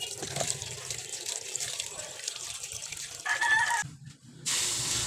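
Tap water runs steadily into a sink while fish is washed, a soft continuous splash with a brief pause before the flow resumes more strongly; a rooster crows faintly in the background.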